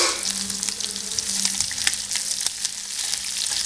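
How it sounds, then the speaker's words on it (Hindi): Sliced onions fry in hot oil with popping mustard seeds and cumin for bhindi sambhar, a close, steady sizzle with sharp crackles running throughout, no voices. "अब डालेंगे लंबे कटे हुए प्याज"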